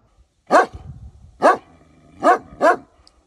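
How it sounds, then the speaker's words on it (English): A dog barks four times outdoors, sharp and close, in two spaced pairs with quiet gaps between the barks and no voices. "What are you barking at?"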